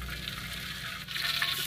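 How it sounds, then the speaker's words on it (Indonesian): Shredded tongkol tuna sizzles as it fries in a pan of hot oil in a home kitchen, giving a steady close crackling hiss with a little stirring and no talk. "Terus lanjut lagi, ini aku goreng yang sisanya tadi ya."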